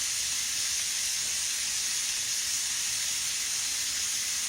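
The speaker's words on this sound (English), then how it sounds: "Let them start sauteing in there a little bit." Mushroom chunks sauté in a hot pan, giving a steady, dense sizzling hiss that stays level throughout, close and loud, with no talk.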